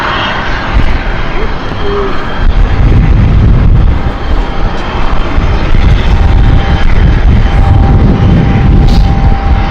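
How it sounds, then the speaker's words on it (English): An Aurigny ATR 72 turboprop airliner flies out toward Guernsey, its loud, steady engine roar filling the whole stretch alongside gusty wind buffeting the microphone. "The ATR 72 Aurigny air service here, going back to Guernsey."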